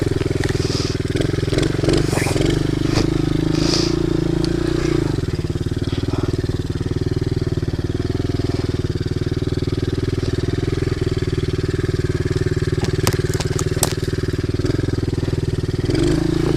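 A pit bike engine idling high and revving on its own while riding through trees, a loud steady close drone with a pitch drop about five seconds in, and a voice talking briefly underneath.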